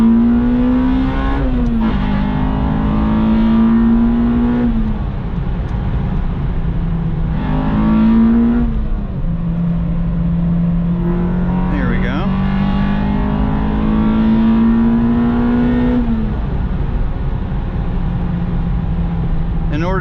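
An Acura RSX Type S with a K20Z1 engine revs loud and close from inside the cabin, its pitch climbing repeatedly toward VTEC between shifts, with someone talking over the engine.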